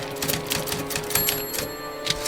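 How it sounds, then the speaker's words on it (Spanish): Rapid, irregular clicking of typewriter keys, a dense run of sharp strikes with an occasional bell-like ping, close and fairly loud with no voices. "era totalmente reconocible el ruido que hacía, el clic de cada tecla de aquella máquina de escribir"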